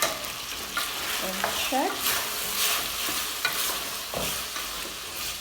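Spice-free pork with tomatoes cooking in a pot, steady sizzling under scraping stirs of a utensil against the pot, close and fairly loud, with a brief spoken word.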